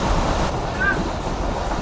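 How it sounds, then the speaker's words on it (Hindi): The Rehman Baba Express rumbles through Jambir railway station without stopping, heard from aboard as a steady loud rolling roar with a brief high squeal. "2:40 पर ट्रेन हमारी स्किप कर रही है जंबीर रेलवे स्टेशन को"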